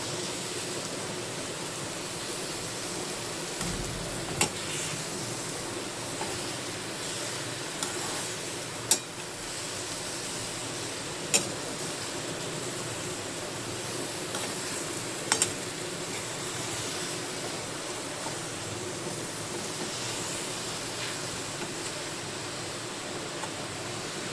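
Soybeans being stirred in a sizzling pan, a steady low hiss throughout with a few faint clicks of the spoon against the pan, and no voices.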